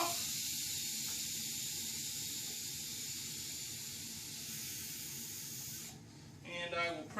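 CO2 vents from a pressurized homebrew beer keg in a steady, close, airy hiss lasting about six seconds before cutting off, followed by a short voice.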